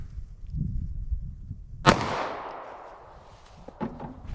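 Single sharp gunshot from a .380 ACP+P Underwood Xtreme Defender round fired into ballistic gel, a loud close crack with a trailing outdoor echo, then a faint shuffle.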